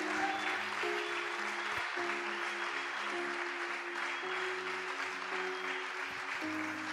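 A church congregation applauds steadily for seven seconds at a Sunday thanksgiving service, the clapping sustained and moderately distant, with organ-like held tones running beneath it.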